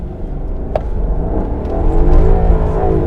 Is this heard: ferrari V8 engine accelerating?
yes